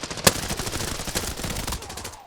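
AEK rifle fire in Arena Breakout Infinite, a dense flurry of overlapping shots and combat noise with one sharp crack standing out near the start.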